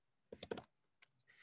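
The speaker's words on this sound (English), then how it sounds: "so let me type export" Short bursts of quiet keystrokes as a command is typed on a Mac computer keyboard, a quick cluster of taps followed by a pause and a few more clicks.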